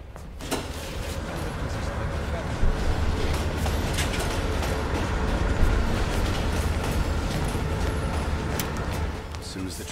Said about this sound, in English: Train's slowing down.